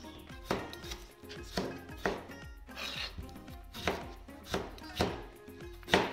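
A knife chops tomatoes roughly on a board in an even rhythm of about ten close, crisp strikes, with no talk.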